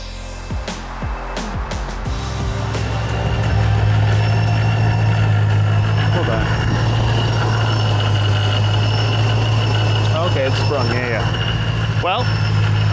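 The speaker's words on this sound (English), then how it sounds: "It only has the little bit of noise that the ProCharger itself actually makes, but the bearings sound great." A 2006 Mustang GT with a 4.6 V8 and a ProCharger supercharger idles nearby, a steady low rumble with a faint supercharger whine on top. Someone talks over it.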